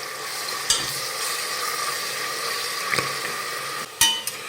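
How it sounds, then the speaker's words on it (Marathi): Ground masala paste for dhaba-style chole sautéing in a pan, a steady close sizzle broken by a few sharp scrapes and clinks of a spoon against the pan, with no voices. "आणि हे वाटण व्यवस्थित परतून घेऊयात।"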